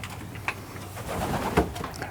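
Racing pigeons in a hens' loft coo and rustle nearby, soft repeated throaty calls overlapping with small movements, moderately loud and without speech.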